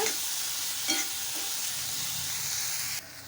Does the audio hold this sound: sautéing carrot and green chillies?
yes